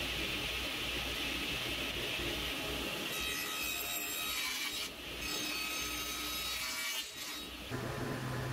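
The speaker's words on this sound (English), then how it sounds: "The mortise is then cut using a tenoning jig on the table saw." A table saw with a tenoning jig cutting a mortise in wood for a classic china cabinet, a loud continuous whine and rasping cut that holds steady and shifts pitch as the blade moves through the piece.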